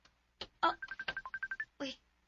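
A cellphone rings in a room with a short run of rapid electronic beeps, while someone talks over and around it at close range.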